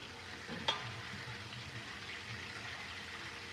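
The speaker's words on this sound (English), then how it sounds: "I'm frying the turkey" Steady, dense crackling sizzle of a turkey frying in hot oil, continuous throughout, with a brief sharp clink near the start.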